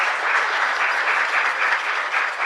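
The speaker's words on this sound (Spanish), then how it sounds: "Fuerte aplauso para nuestra comunidad." Congregation at a Catholic Mass in the Santa Rosa de Lima chapel in Asunción claps steadily, an even, moderately loud patter of many hands with no talking over it.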